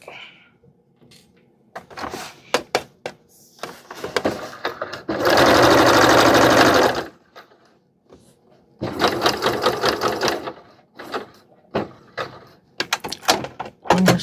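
Sewing machine stitching a cotton gauze tunic shirt: two loud sustained runs of the motor, separated by short clicks and handling noises, with a brief hum near the start.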